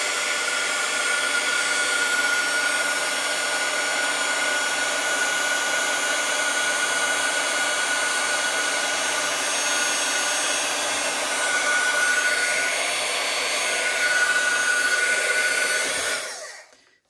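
A heat embossing gun blows a steady, loud hot-air whoosh over four small paper flowers for Christmas cards, running continuously with slight swells before cutting off abruptly at the end.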